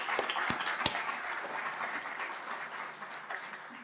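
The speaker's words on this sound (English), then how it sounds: "Can we please get a round of applause for everyone here today?" Audience applause at a Physical Therapy hooding and pinning ceremony, a steady wash of clapping from a seated crowd that holds through the clip and slowly thins toward the end.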